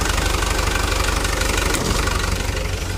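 Diesel engine of a Hino Dutro / Toyota Dyna truck idling and refusing to shut off, a loud, steady, close knocking rumble with even rhythmic pulses and no voices.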